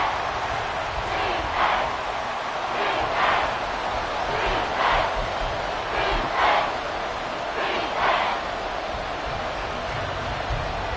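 A video game American football crowd in a stadium during a Jaguars versus Houston Texans match, a steady dense roar with repeated rhythmic swells of cheering, loud and continuous with no voices standing out.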